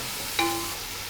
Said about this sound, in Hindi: प्याज को हमने ब्राउन कर लेना है।